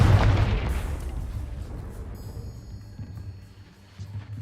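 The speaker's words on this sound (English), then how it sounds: "Confringo" A Confringo spell blast in the Hogwarts Legacy video game: one loud, deep boom at the start that rolls off into a fading rumble, with a thin chime-like shimmer appearing partway through.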